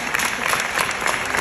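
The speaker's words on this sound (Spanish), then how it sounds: "Muy bien, un aplauso." Audience applause at a permanent makeup conference in Barcelona, a short, lively burst of many people clapping close together, steady throughout with no talk over it.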